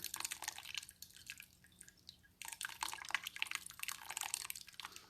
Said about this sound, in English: Let's try pouring from the side a little bit.